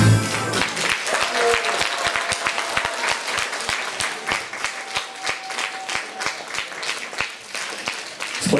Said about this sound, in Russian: спасибо вам за теплые аплодисменты